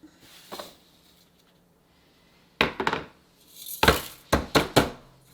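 Black sand concentrates from gold mining are poured into a black pan, giving a few sharp gritty clinks and rattling bursts, close and clear, with no talk.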